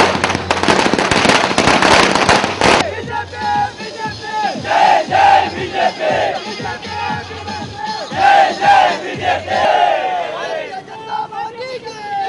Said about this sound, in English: The activists distributed sweets, burst firecrackers and danced on the road along with their senior leaders.